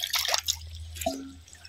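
Slow water trickling and dripping at a village fish pond, with soft splashy liquid sounds and one brief drop, close and faint over low background noise.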